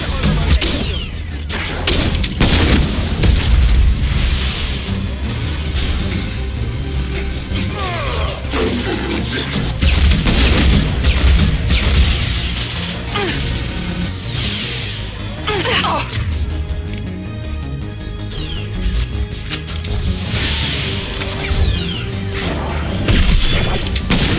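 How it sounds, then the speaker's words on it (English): Loud, chaotic combat in the video game Mass Effect 2, with crashing impacts, shattering debris and heavy booms from a grenade explosion amid ongoing fighting, while a voice talks over the action. "Eat my grenade"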